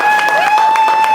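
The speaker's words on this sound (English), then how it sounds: "Give him a round of applause." Audience applause at a press conference for Mount Juliet Golden Bears players, a steady burst of clapping from a crowd, with a sustained tone running through it.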